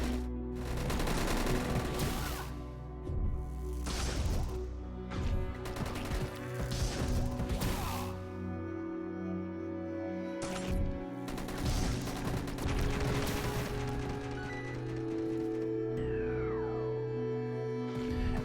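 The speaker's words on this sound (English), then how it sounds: "Cephalopods fires 3 large laser blasts" Cephalopod boss battle in the mobile game Dead Ahead: Zombie Warfare: a dense run of heavy blasts and crashing hits over steady background game music, loud and continuous, with no voices.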